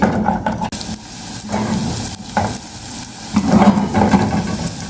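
Beans sautéing in a pan, a steady close-up sizzle with occasional scraping and stirring noises rising and falling, no voices over it.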